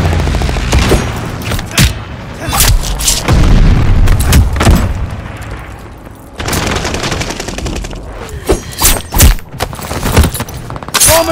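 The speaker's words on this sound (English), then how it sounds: "Friendly bombing run." Bombing-run explosions and gunfire in a Call of Duty multiplayer match, loud booming blasts and rapid bursts of shots crowding one another over about eleven seconds with no pauses.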